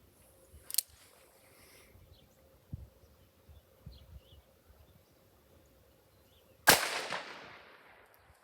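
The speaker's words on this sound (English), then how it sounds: "So I loaded up 3 rounds in the revolver, I backed off to a distance of 7 yards, and here's how the tack driving shot went." Two sharp, loud revolver shots from a Smith & Wesson Model 19 Carry Comp fired at an outdoor range, one near the start and one about six seconds later, the second ringing out with a longer decaying tail. Faint handling noises fall between them.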